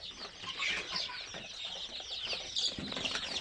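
Chickens on a small farm with some birds sick in the cold weather cluck and chirp softly in a busy, faint chorus that continues throughout.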